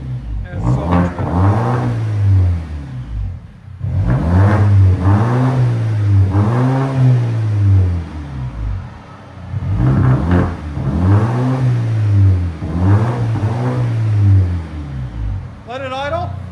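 A 2019 Volvo S60 T6 with a 2.0L turbo engine, a Vibrant exhaust and the muffler deleted revs loudly and close by, with about four sweeping revs that climb and fall in pitch between short pauses.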